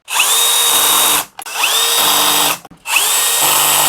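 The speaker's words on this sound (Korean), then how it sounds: "그냥 드릴로 조지면 돼." Power drill driving screws to mount an MSI MAG CoreLiquid M360 CPU cooler, heard as three loud, close whirring bursts with short pauses between them.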